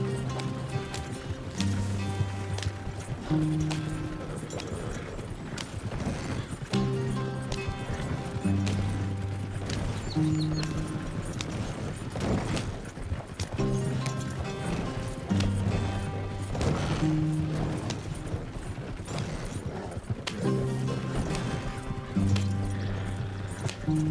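A horse cart ride in Red Dead Redemption 2 has steady hoof clip-clops and wheel rumble running throughout, partly under layered music.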